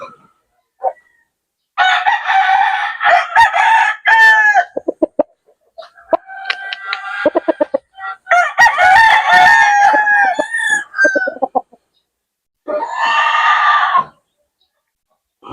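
A kanaway gamecock rooster crowing loudly and close by, several long strident crows with clucking between them, separated by brief silences in a backyard breeding setting.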